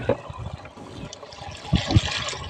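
On a farm, water is poured into a pesticide mixture for spraying, giving a continuous close trickling and splashing with a couple of louder gushes toward the end.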